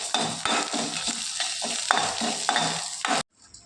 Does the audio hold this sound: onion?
yes